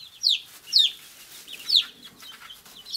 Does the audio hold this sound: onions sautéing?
no